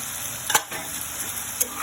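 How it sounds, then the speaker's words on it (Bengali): Boiled goat liver sizzles with onions in a pan, a steady close hiss broken by a couple of sharp stirring scrapes. "দিয়ে দিলাম খাসির কলিজা"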